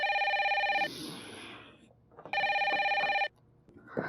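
A telephone rings up close in two loud bursts of steady electronic trilling with a short gap between them, and a voice speaks briefly in the pause and after the second ring.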